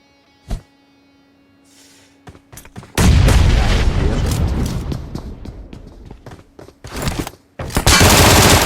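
Sharp gunshots crack out early, then a dense, loud burst of rapid automatic fire rattles on for several seconds, with a final loud volley at the end, in a video game.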